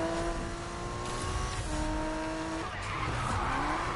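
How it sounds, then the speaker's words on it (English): A car skids hard under heavy braking in the Need for Speed 2015 video game, with loud, sustained tire squeal and a droning engine running continuously for about four seconds. "I really gotta fucking hold down on that brake to get the slide."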